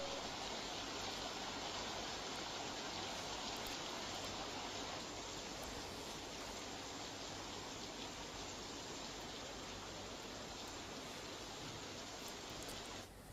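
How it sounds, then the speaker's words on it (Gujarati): Steady, dense monsoon rain pours down continuously in Vapi, South Gujarat, with an even hiss, no pauses, no voices. "ફરી એક વખત વાપી પંથકમાં વરસાદનો બીજો રાઉન્ડ શરૂ થયો છે"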